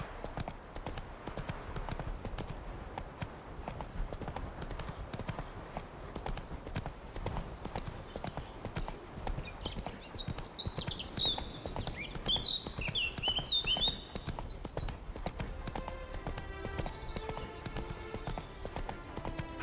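Roach, a horse in the game The Witcher 3: Hearts of Stone, galloping with rapid rhythmic clip-clop hoofbeats on the ground throughout, while birdsong chirps briefly in the background midway.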